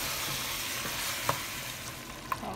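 Chicken pieces sautéing in a pan for a Sri Lankan ground-spice chicken curry, giving a steady, close frying sizzle with a few sharp stirring clinks and scrapes near the end, no voices.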